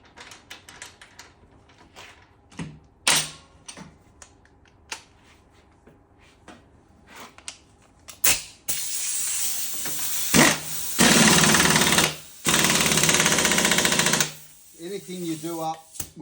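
Rattle gun (impact wrench) doing up a nut on a back wheel: several loud, close bursts of rapid hammering, each lasting a second or two, after a stretch of scattered clicks and tool taps.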